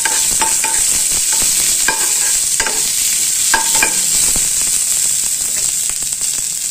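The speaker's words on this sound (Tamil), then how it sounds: "ஒரு வெங்காயம் போட்டு வதக்கிட்டு" Onion sautéing in oil in a pan, a steady loud sizzle under repeated scraping stir strokes in an irregular rhythm, no voices.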